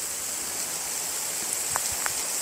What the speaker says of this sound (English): now it's sunny here and the rain's still coming down